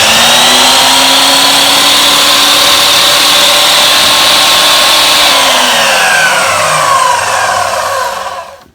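A new 12-inch sliding compound miter saw in a woodworking shop runs loud and steady with a high whine, then winds down toward the end, with no talking.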